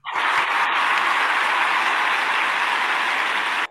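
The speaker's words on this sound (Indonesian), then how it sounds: "Tepuk tangan yang meriah." An audience applauds loudly and steadily for a few seconds at an Independence Day event, dense clapping that starts abruptly and cuts off at the end.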